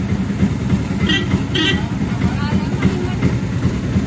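A train rumbles steadily nearby, with brief higher-pitched squeals or horn-like tones rising over the low, continuous noise, while people talk faintly in the background.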